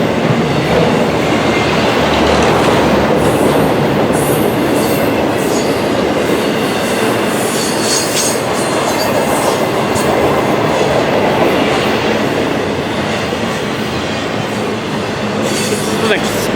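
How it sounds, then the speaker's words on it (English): An express train passes close by on the rails, a loud, steady rumble with wheel clatter and faint squeal that fills the whole stretch without letup. "An express train."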